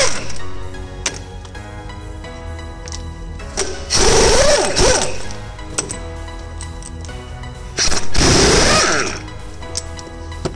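Bolts being removed from a Meritor rear differential on a Volvo truck, heard as bursts of mechanical rattling and ratcheting, with two longer, louder runs of tool noise over a steady background hum.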